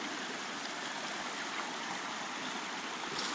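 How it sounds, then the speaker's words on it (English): Raging stream water rushing continuously at Lake Tahoe, a dense, loud, close wash of white-noise roar with no voices. "I'll have to swim through the raging waters."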